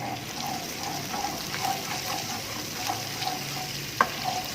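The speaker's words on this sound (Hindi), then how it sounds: "मैंने एक पैन में 1/2 कप ऑलिव ऑयल ऐड करके इसके अंदर लहसुन का पेस्ट ऐड कर दिया है" Garlic paste sizzling and frying in hot olive oil in a pan, a steady crackling hiss with small pops and an occasional louder tap near the end.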